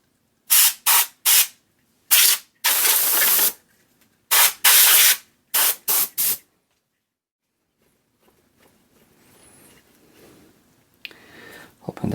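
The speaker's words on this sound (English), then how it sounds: "Can of air buster." Short hissing bursts from a can of compressed air blown into a Pioneer SX stereo receiver, several quick puffs and one longer blast close to the mic, then a quiet stretch of faint handling noise.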